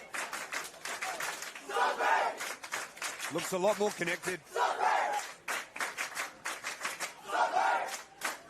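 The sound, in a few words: cheer squad chanting loudly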